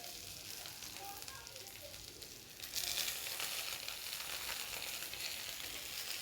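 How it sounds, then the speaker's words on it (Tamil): Curry leaves and vallarai greens sautéing in a pan for chutney, giving a soft, steady sizzle that grows a little louder midway, faint and continuous with no talking. "நல்லா பச்சை வாசனை போக வரைக்கும் நல்லா வதக்கிக்கணும்."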